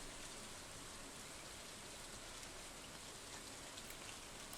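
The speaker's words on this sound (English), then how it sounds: "It's a rainy day." Steady rain pattering down in Stardew Valley, a dense even hiss of drops on surfaces, faint and unbroken throughout with nobody speaking.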